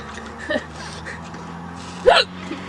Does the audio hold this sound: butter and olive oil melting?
no